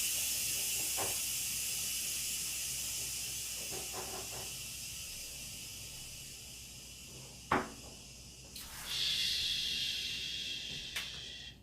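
Steam escaping from a pressure cooker as its low pressure is released at a home dinner, a faint steady hiss with a few soft knocks, then a sharper burst of hissing near the end, with no speech.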